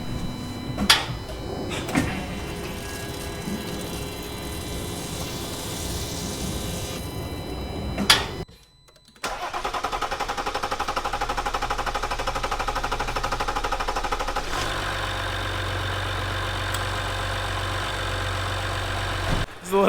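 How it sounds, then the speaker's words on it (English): A Jeep Wrangler EcoDiesel cranks roughly with a few knocks and clunks, falls quiet for a moment, then catches and settles into a steady diesel idle with a deep low rumble. "we'll start the Jeep up and see how it actually starts"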